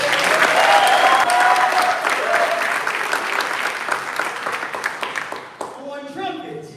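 Audience applause at a jazz workshop performance during the 2024 Jazz House Workshop Symposium, steady dense clapping that gradually thins and fades as a voice begins speaking near the end.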